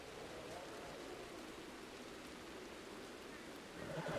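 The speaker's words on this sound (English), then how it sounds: "and it's raining out." Quiet, steady rain hiss with a soft patter, even and distant, continuing without break.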